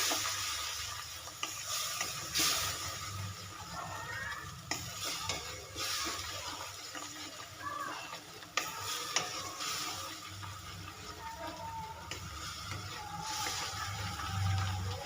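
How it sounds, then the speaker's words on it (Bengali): Eggplant sautéing in a pan with cumin powder, chili powder and salt, cooked village style: a steady low sizzle with soft stirring scrapes running throughout at moderate level, no talking. "স্বাদ অনুযায়ী লবণ দিয়ে খুব সুন্দর করে কষিয়ে নেবো"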